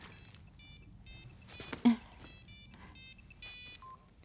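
A phone ringtone plays in repeated short melodic bursts, fairly faint, with a brief clatter in the middle.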